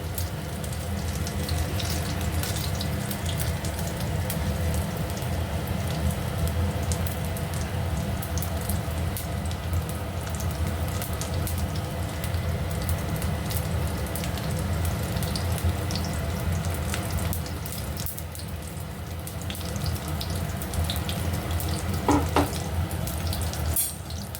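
Cauliflower pakoras fry in hot oil, a steady dense sizzle and crackle that holds evenly throughout, close up and with no voices.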